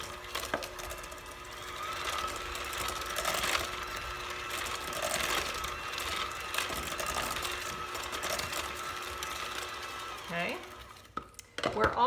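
Lime juice is stirred into tequila lime cookie dough in a bowl, giving a steady, close scraping and churning of a spoon or mixer that runs throughout and stops near the end.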